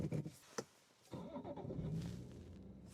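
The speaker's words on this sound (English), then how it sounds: "we've got to hop in this M240i, take it for a drive back somewhere" A BMW M240i starting up: a brief crank and click, then a short lull before the engine catches and settles into a steady, fairly quiet running rumble heard from nearby.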